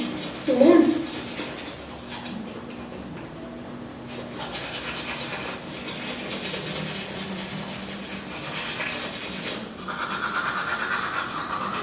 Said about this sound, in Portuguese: Como é que eu consigo fazer uma bagunça pra escovar um dente?